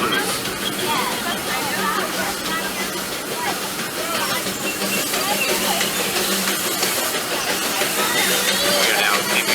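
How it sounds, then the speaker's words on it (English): Steam train Fred Gurley #3 hisses and chuffs steadily as it pulls away, a loud continuous wash of steam with rail noise, under a crowd's babble and talk. "We are now steaming away towards Mickey's Town Depot."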